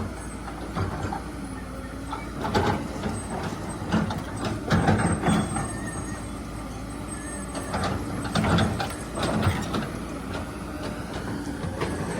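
Hydraulics of a PC200-7 excavator at work: a steady engine rumble with a rising and falling hydraulic whine, broken by repeated metallic clanks and knocks, close by and with no voices.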